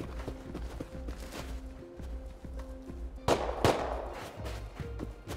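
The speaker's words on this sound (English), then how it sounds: "They are shooting right next to our boat." Gunfire in the video game Rust: two sharp shots about a third of a second apart cut over a steady background of rhythmic hoofbeats, fairly loud and near, with no talking.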